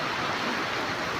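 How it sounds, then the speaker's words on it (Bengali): Heavy rain mixed with hailstones pours down outdoors near papaya trees in Karnataka, a dense, steady roar of hammering drops filling the short stretch with no voices. "বৃষ্টির সাথে শিলাবৃষ্টি হচ্ছে।"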